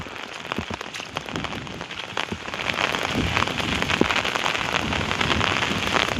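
Heavy rain pouring down on flooded castor fields, a dense, steady drumming hiss close by that grows slightly stronger, with no voices.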